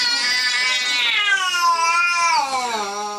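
A grumpy Sphynx cat lets out one long, loud, drawn-out yowl that bends up and down in pitch and slides lower at the end, close and alone.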